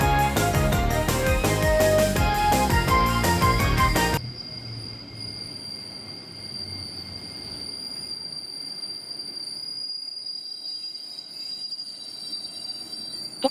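A train rolls in with a steady mechanical rumble and a high, sustained squeal of wheels, after loud music cuts off abruptly.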